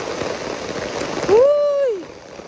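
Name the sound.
rain falling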